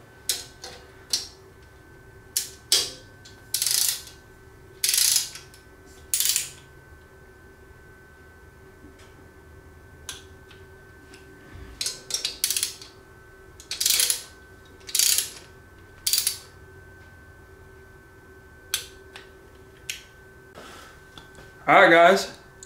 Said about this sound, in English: We're going to go ahead and torque them down.